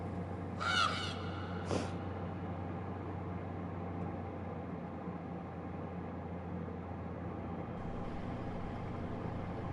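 Two quick crow caws from the horror adventure game The Last Door ring out near the start, then steady low ambient drone continues alone.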